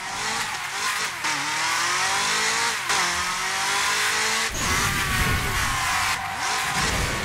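Formula 1 car in the Burnout Paradise racing game, engine screaming and shifting up through gears with repeated loud tire squeals and skids, continuous and close, no talking.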